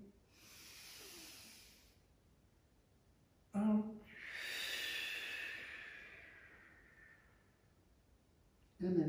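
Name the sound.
deep breathing in during chair yoga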